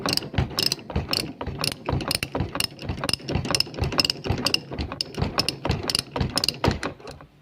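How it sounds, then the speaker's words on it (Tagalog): A 14mm socket wrench ratchets off the rear shock nut on a first-generation Toyota Vios, with a steady run of close, crisp pawl clicks in quick repeated strokes for several seconds. "matatanggal na natin yan gamit ang 14mm na socket wrench"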